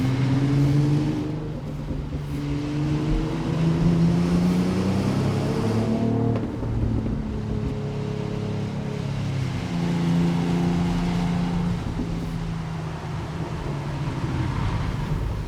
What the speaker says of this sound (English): a bit of exhaust burbles